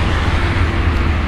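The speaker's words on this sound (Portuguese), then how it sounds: "É que essa rodovia que faz tanto barulho que não dá nem pra escutar o que o guarda tá falando." Loud, steady roar of highway traffic, a continuous low rumble of passing vehicles filling the whole moment without a break.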